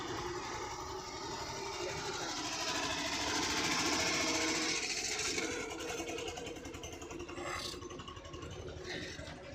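Car engine labouring in first gear with no accelerator, a steady low rumbling drone with rattly texture running throughout, heard from inside the vehicle at moderate level.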